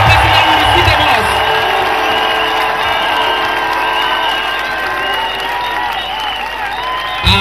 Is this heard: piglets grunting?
no